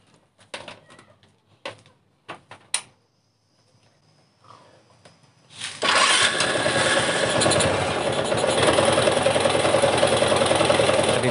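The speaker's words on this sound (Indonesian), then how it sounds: "Sekarang kita akan coba hidupkan ya untuk motornya." A motorcycle fitted with an open/series-type full-wave regulator is cranked with a few short bursts, then catches and runs steadily, a loud close engine settling into a rough, continuous idle.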